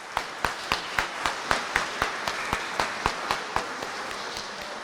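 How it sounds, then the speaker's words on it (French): A congregation at Sunday mass claps for grandparents and elderly people in a steady, even rhythmic beat, about four claps per second, moderately faint and reverberant in the church, with no talking. "je voudrais qu'on applaudisse toutes les personnes qui sont ici comme arrière"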